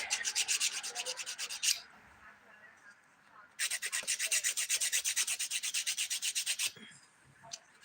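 A nail file rasps underneath a fingernail in quick, even back-and-forth strokes, two close bursts of rapid scraping separated by a short pause.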